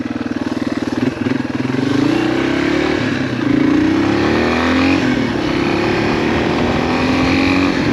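A Yamaha XT225 dual sport motorcycle with an engine oil leak rides and accelerates, its single-cylinder engine loud and close with a steadily rising pitch through the gears, buzzing over wind rush.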